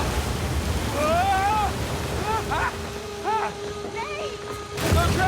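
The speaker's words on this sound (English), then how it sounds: "Waterfall! Waterfall!" A waterfall rushes in Uncharted 4, a steady broad roar of falling water that persists throughout while voices shout over it.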